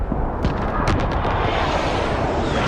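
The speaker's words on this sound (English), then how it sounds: "Enemy precision airstrike, take cover." Enemy precision airstrike explosions in the video game Call of Duty: Modern Warfare, a dense continuous roar of heavy blasts and rumbling impacts with sharper bursts near the start, loud and sustained throughout.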